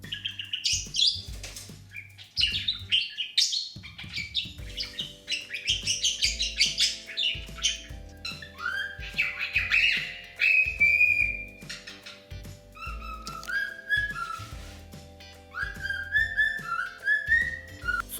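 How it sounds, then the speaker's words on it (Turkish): Lovebirds give bright, rapid chirps, whistles and squawks in dense overlapping bursts, fairly loud and close, with a steady low tonal hum running underneath. "Tavşan papağanlarının bu ötüşleri bazen rahatsız edici, yüksek seviyelere çıkabilir."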